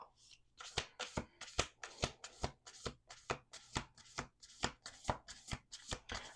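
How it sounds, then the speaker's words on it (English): A deck of oracle cards gets a long, steady hand shuffle, with a quick rhythmic run of close, dry riffles and slaps repeating for several seconds, and no voices. "Last shuffle."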